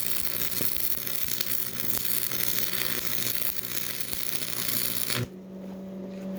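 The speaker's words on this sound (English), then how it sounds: "It's nice to do smaller welds in little increments." Stick welding a steel tree house bracket for a limb lag bolt: a dense, steady crackling sizzle of the arc running close and loud for about five seconds, then cutting off abruptly into a low hum.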